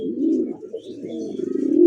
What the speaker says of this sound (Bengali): এত সুন্দর রেড রাজগোলা ডাকতেছে